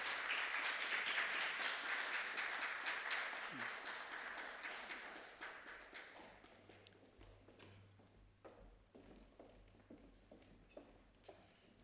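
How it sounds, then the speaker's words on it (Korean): An audience at a church gathering applauds as panelists come forward, a quiet crowd clapping that thins out after several seconds into scattered, isolated claps. "나오셔갖고 나오실 때 박수로 여러분 환영해 주시기 바랍니다."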